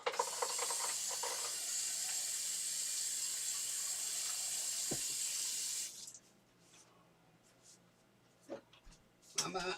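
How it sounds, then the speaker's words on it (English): A kitchen or bathroom tap runs steadily for hand washing, a close, continuous hiss of water that cuts off abruptly after about six seconds, followed by quiet handling sounds and faint knocks. "I gotta wash my hands."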